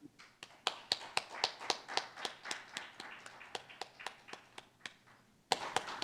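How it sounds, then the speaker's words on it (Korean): Sparse, evenly paced claps from a small audience at a budget policy symposium opening session ring out one by one in a quiet hall, pausing briefly before a final flurry. "큰 박수 부탁드립니다."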